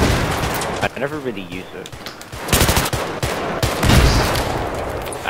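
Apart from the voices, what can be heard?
gunfire in video game Battlefield 3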